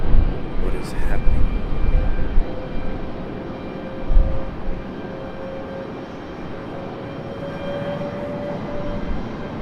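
A FedEx ATR turboprop lands at Raleigh Durham International airport, its engine drone heard from a distance as a steady whine with a faint tone, under some nearby voices and outdoor noise early on.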